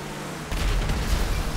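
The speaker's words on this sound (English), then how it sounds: "Oh, there's the explosion." A sudden low, rumbling explosion erupts halfway through a GTA 5 race, with a truck and trailer wrecking, and its heavy boom sustains loudly over steady game background noise.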